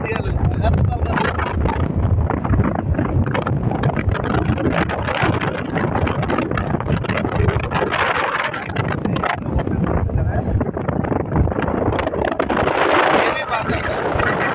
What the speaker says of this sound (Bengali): এমনি বাতাস